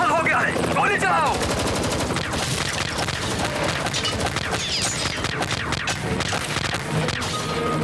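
Rapid, dense machine-gun fire rattles without a break in a Hindi action cartoon, loud and continuous over crashing effects.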